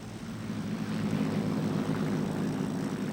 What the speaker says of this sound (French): Le Spitfire est l'un des plus formidables et des plus célèbres avions jamais construits.